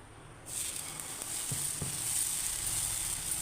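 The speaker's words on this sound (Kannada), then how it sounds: "ದೋಸೆ ಕಾವಲಿಗೆ ಎಣ್ಣೆ ಹಚ್ಚುವ ಸ್ವಲ್ಪ ಜಾಸ್ತಿ ಬೇಡ ಸ್ವಲ್ಪ ಹಚ್ಚುವ ದೋಸೆ ಹಾಕ್ಕೊಳ್ಳುವ ಈಗ" Dosa batter sizzling on a lightly oiled hot griddle, a sudden start followed by a steady, close, loud hiss with a couple of faint soft taps, no voices.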